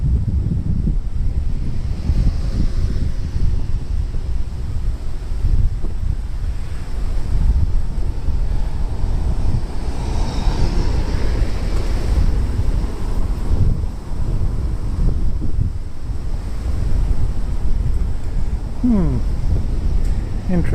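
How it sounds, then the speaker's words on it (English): Strong wind gusts buffet the microphone on a Tokyo street in Jiyugaoka, a loud continuous low rumble and roar that swells and eases throughout, with a person speaking faintly underneath. "wind is very strong"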